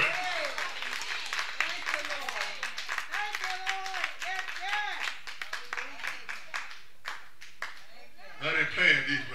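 A church congregation claps in quick, dense, irregular bursts during worship, with voices and talk mixed in, and a louder swell of sound near the end.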